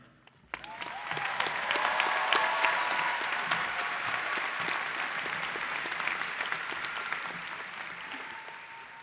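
Sustained audience applause welcoming a student speaker at a graduation-style event, starting abruptly and holding steady and dense for several seconds with scattered claps standing out before it slowly thins.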